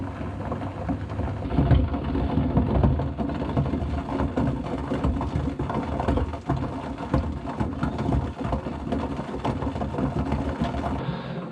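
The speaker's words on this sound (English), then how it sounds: "Sorry about the boiling noise in the background." A pot of water at a rolling boil with horse hoof fungus simmering for amadou tinder, a dense continuous bubbling roar close by, steady throughout without speech.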